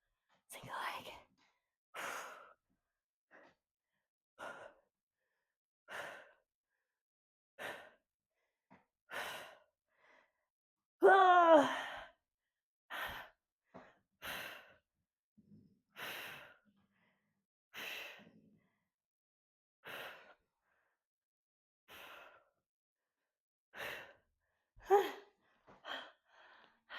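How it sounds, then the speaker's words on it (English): Heavy, rhythmic breathing during a postpartum return-to-exercise workout with single-leg thrusters: a steady series of close, audible breaths and gasps about every one to two seconds, with one louder strained exhale partway through. "Breathing hard."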